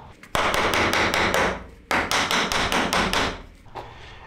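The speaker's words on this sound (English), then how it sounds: "if you hammer it directly in the middle, the whole thing will move evenly up or down" A hammer strikes the middle of an 8-foot 2x4 in two quick bursts of about six sharp, ringing blows each, loud and close, followed by one lighter tap.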